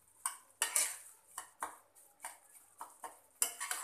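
Semolina halwa roasting in ghee in a pan over a medium flame, stirred with a spoon; close, rhythmic metal scrapes and clinks recur about twice a second over a faint sizzle.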